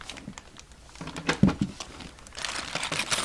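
Plastic sacks from a Craftsman 154-piece tool set are handled up close, giving irregular bursts of crinkling and rustling with a few sharper crackles, and no talking.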